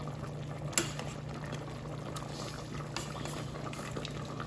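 A pot of curry goat simmers quietly with soft bubbling and small pops over a low steady hum, one sharper tap near the start.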